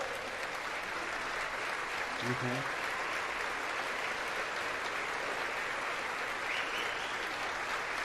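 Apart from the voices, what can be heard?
audience applause for the Speaker of the House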